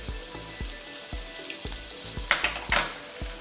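Masala for a beans and egg curry frying in a pan gives a close, steady sizzle, with rhythmic spatula scrapes and taps every half second and a brief burst of bubbling near the end.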